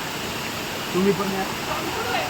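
Umbarde waterfall near Nashik roars as a loud, steady wash of falling water that fills the whole scene, with voices talking faintly over it.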